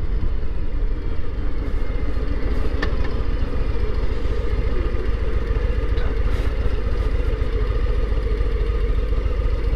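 A 2022 Harley-Davidson Low Rider S with the 117 engine idles at a stoplight, a steady loud low rumble running throughout with faint clicks and clatter over it.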